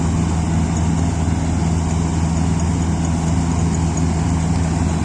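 A John Deere 942 combine harvester engine runs steadily with a low, even drone and a constant hum, unchanging for the whole stretch with no voices.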